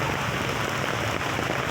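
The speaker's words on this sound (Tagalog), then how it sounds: "Lakas ng ulan." Heavy rain falling outdoors while walking to a market, a dense, steady hiss of drops pattering on surfaces with no pauses, loud and close.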